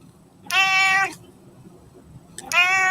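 A cat right in front of a microphone meows twice, two loud, drawn-out close meows separated by over a second of quiet room tone.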